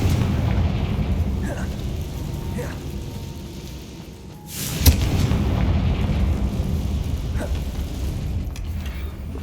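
In Hogwarts Legacy, a Confringo fire-blast spell goes off with a single sharp, bright burst against a constant rumbling game soundscape, and a voice speaks around it.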